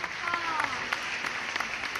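An audience claps for three guests on a Thai show, a soft, close patter of applause mixed with someone talking over it.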